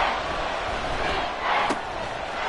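Football stadium crowd roaring during a late third-and-goal play, a dense continuous wash of cheering voices at steady loudness with a brief sharp slam partway through.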